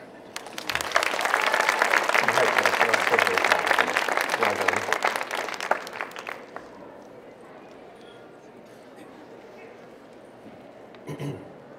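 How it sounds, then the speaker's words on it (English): Loud audience applause fills an awards ceremony hall for about six seconds, then fades into a quiet murmuring room with a brief rustle near the end. "How about I get one more round of applause?"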